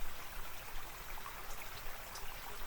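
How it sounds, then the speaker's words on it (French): A small trickling stream in Lot-et-Garonne near Sainte-Colombe-de-Villeneuve on a very hot day, a soft continuous babble with faint droplet plinks, quiet and close, with no talking. "j'ai trouvé le seul ruisseau encore actif du coin"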